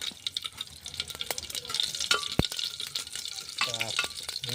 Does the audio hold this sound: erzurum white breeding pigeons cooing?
no